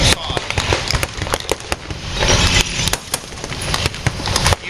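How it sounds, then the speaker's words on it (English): Repeated sharp gunshot cracks from blank-firing weapons during a staged tank battle at Tank Fest 2022, irregular bursts of loud bangs over a broad rumble of engines and battlefield noise. "Panzer Grenadiers are putting up a stiff fight. They are returning fire."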